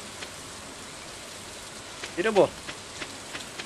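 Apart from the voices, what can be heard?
rain falling in Stardew Valley video game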